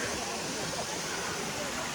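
Water pours down a mountain waterfall on the trail to Sri Hemkund Sahib, a steady, dense roar of rushing water filling the scene throughout with no pauses.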